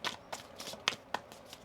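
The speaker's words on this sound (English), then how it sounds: "One more shuffle." Tarot cards being shuffled by hand, a few soft, quick riffles and taps spaced irregularly, close and quiet with no talking.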